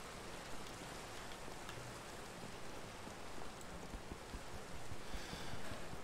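Steady rain in the Minecraft video game, a dense, even hiss of falling drops that holds for the whole stretch and swells slightly toward the end, with no talk over it.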